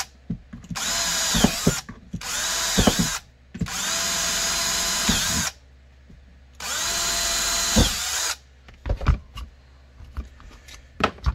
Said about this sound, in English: I'll drill those real quick.